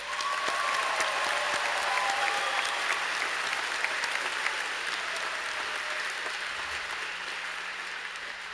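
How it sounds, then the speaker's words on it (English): A large graduation crowd applauds steadily and evenly throughout, a dense wash of clapping that fades slightly toward the end with no talk over it. "please join me in giving a huge round of applause for our amazing support systems."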